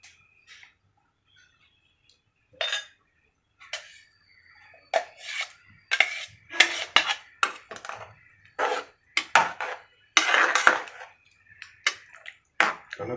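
A spoon works through thick field bean gravy in a pot, producing a run of irregular metallic scrapes and clinks that grow busier and louder as the stirring continues, close by with no talk.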